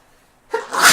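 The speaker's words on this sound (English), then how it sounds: "I have to sneeze 1 second." A single loud, close sneeze erupts after a quiet moment, rising sharply and trailing off in a breathy burst.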